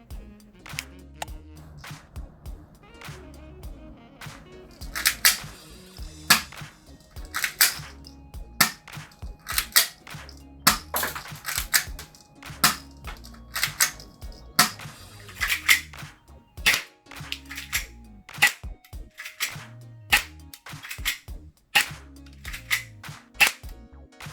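A Toystar Glock 26 airsoft BB pistol fires a long series of sharp, snappy shots, some in quick pairs and some spaced apart. The shots ring out close and clear over quiet handling noise, with no talking between them.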